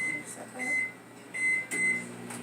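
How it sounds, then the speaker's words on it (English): Microwave oven heating a single-serving chocolate mug cake, a steady close hum with a faint rotating turntable rattle and rising and falling motor drone, no talk over it. "we're going to stick that in the microwave for 1 minute"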